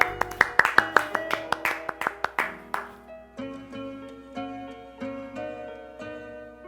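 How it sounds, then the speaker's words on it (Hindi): Audience clapping in a comedy drama: a run of sharp, distinct claps for about three seconds, then giving way to ringing tonal notes that repeat in a steady rhythm. "तालियां।"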